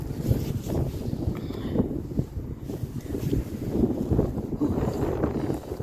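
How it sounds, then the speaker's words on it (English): Wind gusting across an outdoor village cemetery in Shelburne, Vermont, producing a continuous low rushing buffet against the microphone with slow swells, no voices. "Wind is going to cut me in two."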